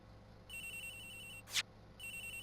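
A mobile phone rings in the Ace Attorney Investigations video game, a quiet electronic ringtone in repeating tonal bursts with a short sharp blip between them, set over a low steady hum.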